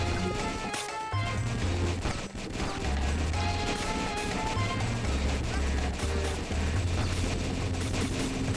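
Video game turret gunfire in a penguin defense game, dense rapid crashing shots layered over a busy soundtrack with deep repeating bass notes, steady and loud throughout.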